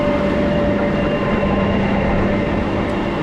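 The Snowdon Mountain Railway train heads downhill, giving a steady, continuous rumble of rolling wheels and engine at close range.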